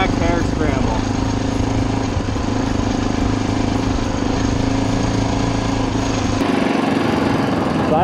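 An Army Harley dirt motorcycle engine runs loudly and steadily at close range, a rough, constant drone that drops to a lower tone near the end, with voices partly buried under it.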